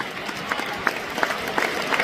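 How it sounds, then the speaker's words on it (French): Audience applause for a team during a Cameroonian talk show about starting a business, a steady wash of clapping with scattered sharper claps throughout, fairly close and moderately loud, with no talk. "On peut applaudir cette équipe."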